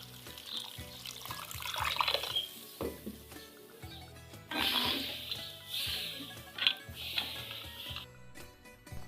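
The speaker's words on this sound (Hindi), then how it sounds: "अब इसमें हम शामिल करेंगे पानी," Roughly a glass of water is poured into a pot of fried garlic for a Punjabi garlic curry, a soft splashing stream running for several seconds beneath steady background music.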